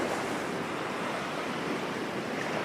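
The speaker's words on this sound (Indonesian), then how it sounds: "hanya ada suara laut dan semilir angin yang menemani" Sea waves wash steadily at Teluk Penyu beach in Cilacap, Java, a continuous rushing surf mixed with a soft breeze, moderately distant and with no voices.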